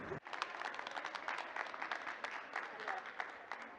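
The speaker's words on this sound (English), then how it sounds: "Let's give him a hand." An audience at a talk in a club applauds in a steady, moderately distant patter of many hands clapping throughout.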